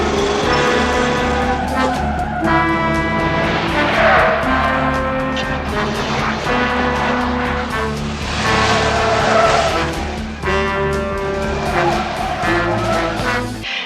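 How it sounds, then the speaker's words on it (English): A supervisor's car pulls away hard on a police chase, its engine revving loudly in rising and falling surges while the tires squeal and skid repeatedly throughout, close and alone without talk. "Allen, the supervisor's getting in his car and is apparently going to follow."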